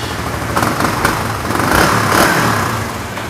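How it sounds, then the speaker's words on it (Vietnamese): An imported, all-original motorcycle engine runs close by with a steady mid-pitched putter, swelling slightly in a few gentle revs. "Nổ máy cho mọi người xem luôn."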